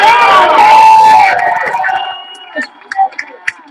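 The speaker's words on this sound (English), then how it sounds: "so they cheer" A crowd cheering and shouting for veterans at a rally, loud and dense at first, then thinning into scattered shouts, whistles and a few claps as it dies away.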